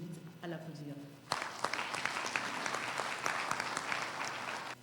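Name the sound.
audience applause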